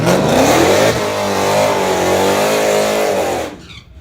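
A car engine revs loudly and steadily close by at an outlaw drag racing track, for several seconds, its pitch rising and falling, then cuts off abruptly near the end.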